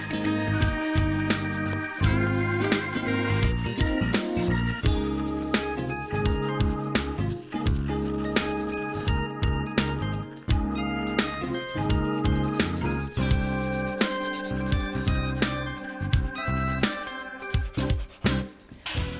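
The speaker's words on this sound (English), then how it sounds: "When sanding, it can be tedious, but if you make sure you do it effectively, then it makes the painting so much easier in the end." Sandpaper scrubs a wooden chair before chalk painting, in close, repeated back-and-forth strokes with a gritty rasp that keeps a steady rhythm and goes on alone without any voices.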